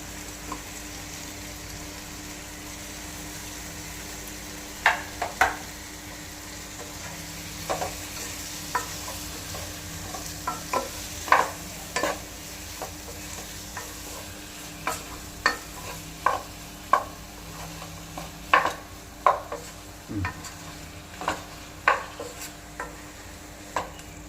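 Chicken pulao ingredients fry quietly in a pan under a low, steady sizzle, while a spoon stirs with intermittent sharp scrapes and taps that grow more frequent later; no voices.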